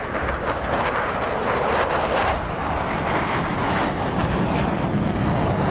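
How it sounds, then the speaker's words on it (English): A Mirage jet fighter flying at over 600 miles an hour, a loud continuous roaring rumble that holds steady throughout, with no voices. "flying at over 600 miles an hour"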